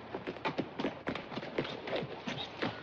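Quick, rhythmic hoof clops of a horse trotting, close by, steady over a few seconds with faint background noise.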